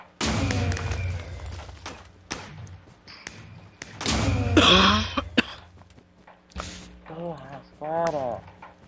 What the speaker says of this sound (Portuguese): que merda, não para de tossir